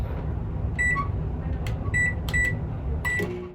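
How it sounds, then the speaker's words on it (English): A microwave oven runs with a steady low hum while heating potato soup, with several short beeps sounding over the drone, fairly close and without any talk. "Once your soup has finished cooking in the microwave, allow it to cool for a few minutes because it will be very hot."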